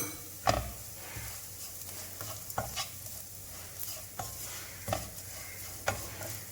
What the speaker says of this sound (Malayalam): ഈ ചട്ടിയുടെ ഈ ചൂട് കൊണ്ട് തന്നെ ഇത് മൊരിഞ്ഞു വന്നോളും.